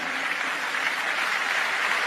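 A short burst of steady applause from a crowd, evenly sustained with no voices standing out.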